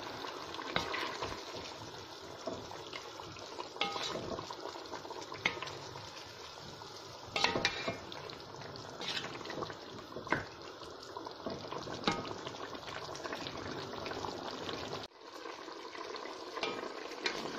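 Beef sizzling and bubbling in a pot as it sears in its own released juices, a steady moist frying hiss with occasional stirring scrapes and clinks, close and continuous with no talk.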